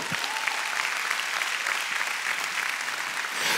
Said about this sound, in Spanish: Alguien dé un aplauso bien fuerte al Señor